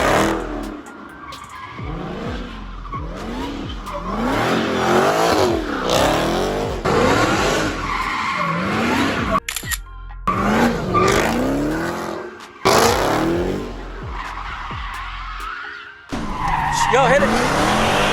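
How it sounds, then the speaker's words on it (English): A Dodge Hellcat drifts, its tires skidding and squealing in long repeated bursts while the engine revs hard close by. Excited shouting breaks in between the slides. "convinced me to slide my Hellcat, so that's what we're gonna do now."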